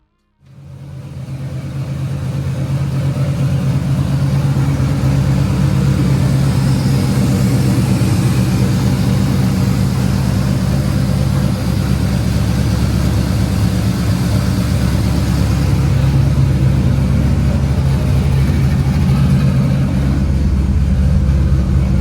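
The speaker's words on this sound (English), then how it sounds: "I'm just sitting here letting the car idle, letting it get up to temperature" A 1967 Chevy Nova with a swapped 5.3 LSA V8 idles steadily and loudly, a deep continuous rumble holding even from start to finish with no voices over it.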